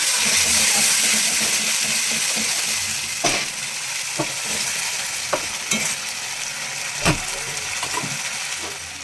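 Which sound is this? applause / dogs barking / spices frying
spices frying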